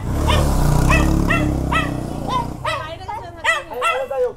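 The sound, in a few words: small dog barking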